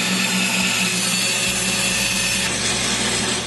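A bandsaw cuts through a wooden bandsaw box's drawer blocks, giving a steady, close, continuous rasping whine with a low motor hum underneath, unbroken for the whole stretch.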